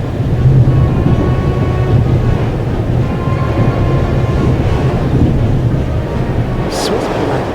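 A passenger train interior in The Raven: Legacy of a Master Thief, with a steady loud rumble of rolling wheels and wind that continues unbroken, and a brief high screech near the end.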